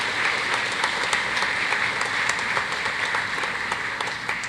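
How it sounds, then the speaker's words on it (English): A commencement ceremony audience applauds its special guests with steady, even clapping throughout, moderately distant and filling the hall, with no voices over it. "One more round of applause, please, for all of our special guests"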